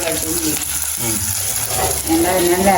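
Chillies, onion and garlic sauté in a pan with a steady close sizzle and crackle, stirred now and then, the frying growing a little louder toward the end.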